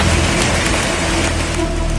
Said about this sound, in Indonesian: Hujan deras disertai angin kencang menerjang kawasan wisata pesisir pantai Ampenan